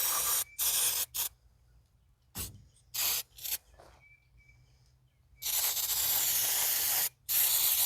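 An aerosol can of brake cleaner sprays in a series of short hissing bursts, then one long sustained blast and a final short burst, loud and close with silent gaps between.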